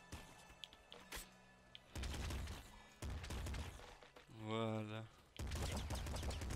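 Gunfire from a weapon in the video game Nuclear Throne, heard as dense bursts of rapid shots through much of the clip, with someone speaking briefly in between.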